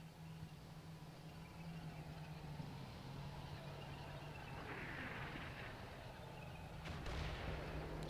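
Smoke artillery rounds firing in Combat Mission: Shock Force 2 come through as faint, distant thuds over a steady low rumble, with a sharper report near the end.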